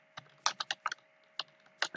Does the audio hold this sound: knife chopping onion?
no